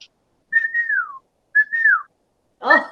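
Two sharp, descending whistles from a person calling a dog, each a rising-then-falling call, followed by a brief burst of noise at the end.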